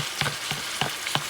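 Chopped onions frying next to a bison flat iron steak in a hot pan: a steady close sizzle, broken by a few soft scrapes and stirs about every third of a second.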